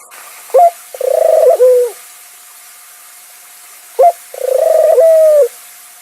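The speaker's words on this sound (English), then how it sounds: "These are the temple doves Helios and Vesta." Two temple doves, Helios and Vesta, cooing in two separate bouts, each a short note followed by a longer rolling coo, close and clear with quiet pauses between.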